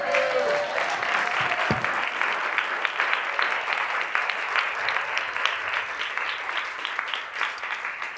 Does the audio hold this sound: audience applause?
yes